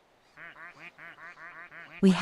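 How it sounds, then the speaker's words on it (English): A rubber duck in the VRChat game quacks in a quick rhythmic run of about eight nasal squeaky quacks, followed by a sudden loud burst of noise. "I can make him quack"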